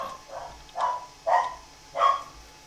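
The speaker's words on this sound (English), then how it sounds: "Sorry about the dog, if you guys can hear it." A dog barks four times in a steady, evenly spaced sequence, each bark short and moderately loud, with quiet background between them and no talking.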